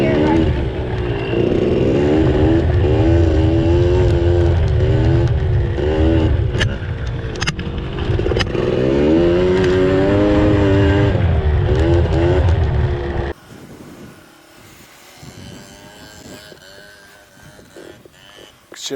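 A Yamaha dirt bike engine revs hard and loud through repeated throttle blips during burnout and drifting turns, rising and falling in pitch, then cuts to a much quieter, distant idle near the end.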